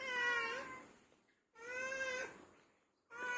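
Three loud, close cat meows, each a drawn-out, tonal cry lasting about a second, separated by short pauses, from one of several cats gathered near a night market.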